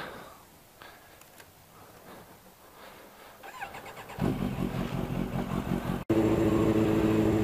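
A Kawasaki Ninja H2 motorcycle engine fires up from quiet and settles into a loud, uneven putting idle close by, with a brief cut near the end.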